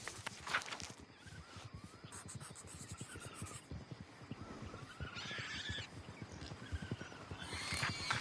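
In the Red Dead Redemption 2 video game, a horse-drawn wagon approaches along a track. Hooves clop softly in a steady rhythm, faint and distant, with occasional snorts, and the sound slowly grows louder.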